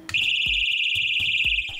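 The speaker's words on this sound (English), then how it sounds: "Personal alarms." Personal safety alarm blaring a loud, piercing high-pitched siren tone, steady and continuous with pulsing low thumps underneath, close and alone.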